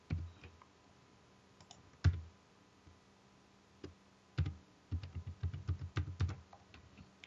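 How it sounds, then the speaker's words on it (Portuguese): Login details going in on a computer keyboard: scattered quiet key taps, then a quicker run of clicks near the end, all close and soft. "você vai digitar o usuário e senha que você criou"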